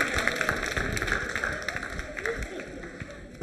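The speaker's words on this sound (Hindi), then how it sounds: "आप जोरदार तालियां बजाइए" A hall audience at a quiz show for a cancer hospital's Cancer Survivors Day claps in a steady, lively round of applause that gradually eases in volume.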